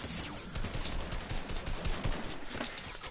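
Rapid automatic gunfire from a high-recoil weapon in the shooter game Overwatch, a steady rattling stream of shots close up with no talk.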